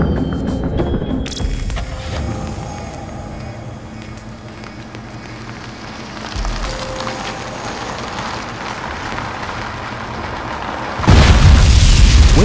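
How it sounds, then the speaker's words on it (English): A mine blast detonating beneath an armored vehicle, heard as a deep rumbling boom with sustained low roar, ending in a sudden loud burst near the close. "When an explosion impacts a vehicle"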